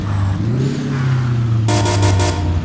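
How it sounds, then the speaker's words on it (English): A Kenworth K108 truck in American Truck Simulator gives a loud, close horn blast in short pulsing toots over a steady, rumbling idling engine. "Bit of a horn, toot toot."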